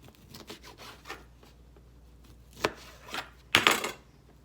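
Knife chopping through sausage-wrapped dough on a board to make bite-sized appetizer pieces, a handful of sharp cuts that build toward two louder strikes near the end.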